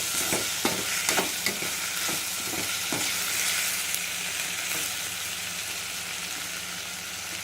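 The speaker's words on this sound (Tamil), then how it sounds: "எல்லாம் ஒன்றா சேர்த்து நல்லா வதக்கணும்." Ingredients for a mushroom curry are sautéed in a pan over a medium flame, with a steady close sizzle and quick rhythmic stirring scrapes early on that then settle into an even hiss.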